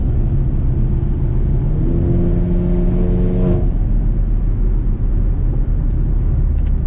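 A Mercedes GLA45 AMG with a Eurocharged transmission tune accelerates hard at full throttle: a loud, steady engine roar carries a rising whine that climbs for a couple of seconds, then settles back into a heavy rumble.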